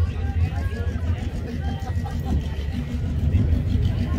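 Loud turbocharged car engine at the TX2K21 car event, a steady low rumble that swells toward the end, with crowd chatter underneath.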